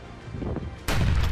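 A sudden, loud burst of gunfire cracks out close by near a cafe in Surrey, Canada, after a moment of muffled background noise.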